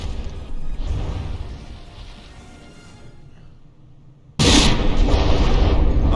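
Battleship guns firing in From the Depths as two warships duel: a rumbling barrage fades over several seconds, then a sudden loud, heavy blast bursts in and sustains at full strength.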